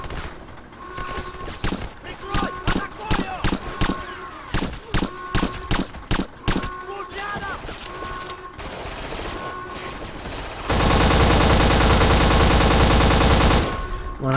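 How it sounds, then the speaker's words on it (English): Loud video game gunfire cracks out in a rapid burst of separate shots, followed by a sustained roar of continuous fire near the end, with faint talk underneath. "When I shoot with that gun, the sound is so loud."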